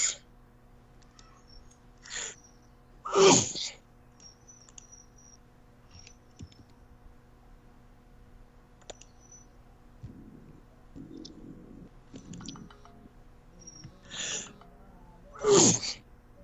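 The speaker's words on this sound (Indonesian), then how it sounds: "Bersin-bersin ya Pak." During an online Microsoft Teams meeting, someone sneezes several times in separate sharp bursts spread across the stretch, two of them loud and close, with faint keyboard typing and clicks in the quiet gaps.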